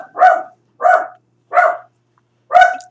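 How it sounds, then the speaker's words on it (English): A puppy barks four times, close and sharp, three evenly spaced yaps followed by a pause and a fourth, with silence between them. "my puppy is barking"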